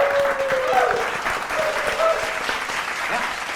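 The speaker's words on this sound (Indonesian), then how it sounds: "tepuk tangan untuk keempat peserta" Studio audience applause for four quiz show contestants, a steady dense clapping that holds throughout with faint crowd murmur and a voice or tones briefly over it.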